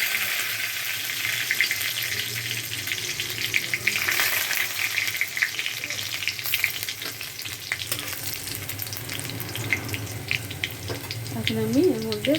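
Cumin seeds and chopped garlic sizzle steadily in hot oil while a spinach and potato dish is started, a continuous close frying hiss with occasional stirring and faint background noise.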